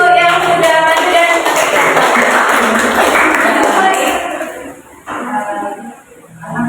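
A class of students applauding at the end of a lesson, a dense burst of clapping that fades out after about four seconds, with voices and noise continuing afterward.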